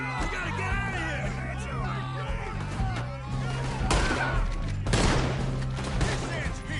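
Gunfire in Red Dead Redemption 2 during a guard shootout, a dense rattle of shots that keeps going under shouting voices and game music, with a couple of louder blasts standing out.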